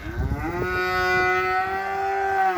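Calves low in a sustained, drawn-out moo as they search for their mothers, a single long call close by with faint rustling underneath and no talking.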